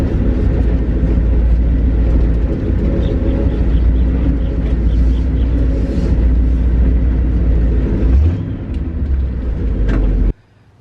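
A 1966 International Loadstar 1600 truck driving, its engine a loud steady low rumble heard from inside the cab, the pitch shifting near the end before the sound cuts off abruptly.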